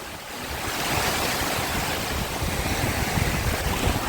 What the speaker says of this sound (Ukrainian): Моречка, добрий день! Оце хвилі!